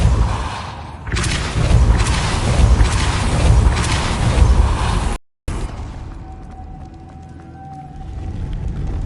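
A forceful Depulso spell from Hogwarts Legacy, cast in a game, lands as a heavy booming burst that rumbles for several seconds, cuts out briefly, then gives way to a quieter ambient hum with a faint steady tone.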